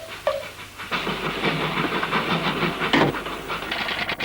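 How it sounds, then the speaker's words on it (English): A cartoon train approaching a station rumbles and hisses steadily nearby, with a whistle-like tone at the start and a burst of steam partway through. "The train was approaching the station."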